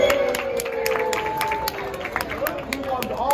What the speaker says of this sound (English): let's give a big round of applause out to our South Bend Cubs team